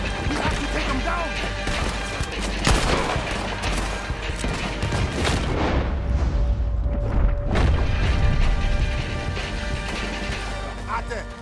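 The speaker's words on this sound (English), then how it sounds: "He's shooting." Gunfire and crashing impacts in Red Dead Redemption 2 on Xbox Series S, a dense, loud battle din of shots and smashes running throughout with speech mixed underneath.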